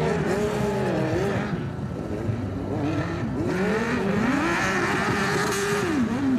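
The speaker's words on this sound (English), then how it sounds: "I think he's going to struggle with that big engine through the moguls" Big-engine Harley-Davidson motorcycle revving hard at a hill climb competition through moguls, a loud continuous engine roar with the pitch rising and falling as the throttle opens and closes, heard close throughout.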